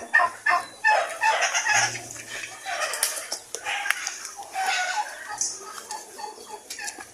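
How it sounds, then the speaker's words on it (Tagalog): A turkey gobbles loudly and repeatedly close by, rapid warbling bursts, with a person talking faintly underneath. "Itong pabo na to, kanina pa sumusunod."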